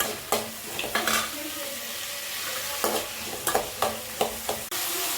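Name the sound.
sautéing fenugreek, mustard, cumin and onion in a pan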